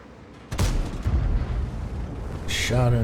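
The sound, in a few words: tank cannon blind shot, from video game World of Tanks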